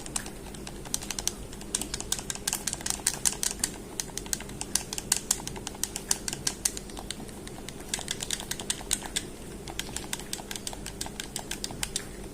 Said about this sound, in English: I think the sound clicking on the controller itself gotta make more sound.